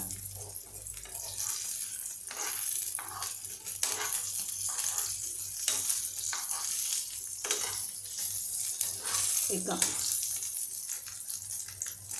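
Paneer cubes fry in oil in a pan while palak paneer is made dhaba style, giving a steady, fairly loud sizzling hiss with crackling bursts that continue throughout.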